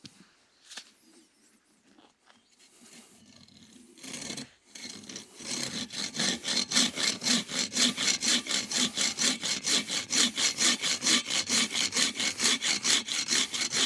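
A folding saw cuts through a thick piece of bone with fast, steady back-and-forth strokes, close and loud, after a few quieter handling knocks.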